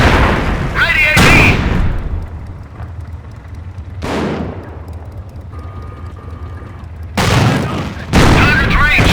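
A tank in Company of Heroes fires its gun in a few sharp, booming blasts with mechanical ratcheting between them, close and loud, separated by quieter stretches of engine rumble and battlefield ambience, with voices speaking in between.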